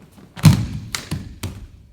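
Feet thump on a floor during a roll in a standing rolls-and-falls practice, several dull close thuds spread unevenly over two seconds with no talk.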